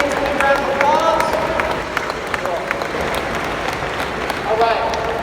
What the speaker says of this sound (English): Let's give these champions a big round of applause